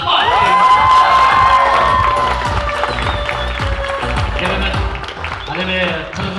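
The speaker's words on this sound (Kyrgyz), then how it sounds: "ушул апаларга, аталарга таазим этип, кыйкырышып, кол чапкылап, рахмат." A loud crowd at a school graduation ball cheers, shouts and claps together, a dense and sustained roar with children's voices and whoops mixed in, and speech running through it.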